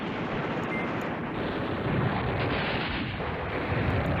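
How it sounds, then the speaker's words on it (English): Airstrike explosions in the Command Ops 2 wargame, a continuous rumbling barrage of deep booms and artillery-like blasts that rolls on steadily with no pauses and no voices. "I got an airstrike"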